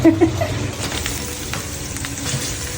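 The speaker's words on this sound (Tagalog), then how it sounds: "niluluto ko lang yung suka niya" Vinegar sizzling and frying in a pan while adobong puso ng saging, a Filipino banana blossom adobo, cooks, giving a steady close crackle with a few louder pops near the start and no talking.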